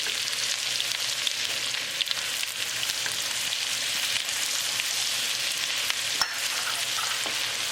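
Garlic and green chili fry in a hot pan for a mushroom and spinach dish, a steady dense sizzle running throughout with a few faint clicks of stirring, close and constant with no talking.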